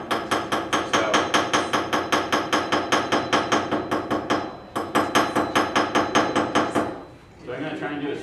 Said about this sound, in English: on my heel dolly, and I'm going to hammer the spine